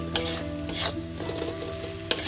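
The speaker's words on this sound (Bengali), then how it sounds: "এই হলুদ লবণ লঙ্কার গুঁড়ো দেওয়ার পর মশলাটাকে কষাতে হবে" Turmeric, salt and chilli powder sizzle and fry in a pan, a low steady crackle with occasional scraping stirs and a couple of sharp clinks.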